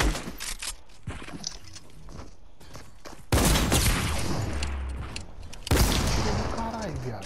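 Gunfire in the video game Fortnite bursts out in dense, loud rapid volleys with booming impacts, among scattered clicks and mechanism sounds, while a player talks over the action.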